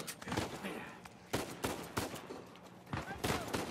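Gunfire from a firefight in the video game Uncharted 4: several sharp, loud shots burst out at irregular intervals over a busy background of game sound.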